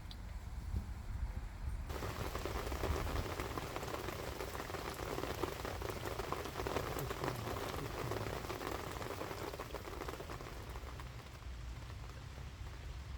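Steady rain falls outdoors by a riverbank, a dense, even hiss of drops hitting surfaces that runs unbroken throughout with no talking.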